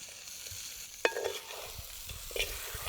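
Grated coconut stirred and fried in a pan, a quiet scraping stir with a light sizzle and a couple of sharper spoon knocks against the pan, close and alone.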